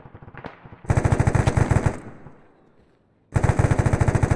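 Sustained automatic gunfire in the Arma 3 military shooter: two loud, rapid bursts of machine-gun fire, each about a second long, split by a fading echoing tail and a short quiet gap.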